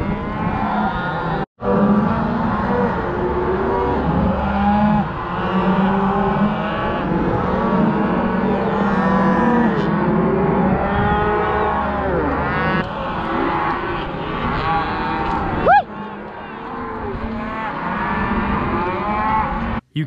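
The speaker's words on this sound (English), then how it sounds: "Notice how there's a lot of calves in the back of the herd." A cattle herd with many calves bellows on a cattle drive, with overlapping moos of varied pitch running almost nonstop over a steady background rumble.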